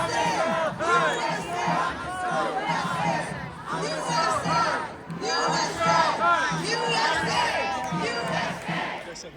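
A large outdoor crowd at an #EndJewHatred rally on East 87th and York Ave in New York City chants USA in loud, rhythmic repeated shouts, many voices in unison with a steady beat and brief pauses between rounds.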